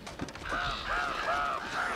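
Bird calls from the Uncharted 2: Among Thieves video game, a run of honking, goose-like cries repeating several times over a steady background at moderate loudness, with no talking.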